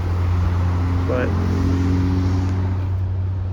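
A 1987 Oldsmobile Cutlass engine idles steadily and close, a constant low hum with faint whine, while a person speaks briefly over it.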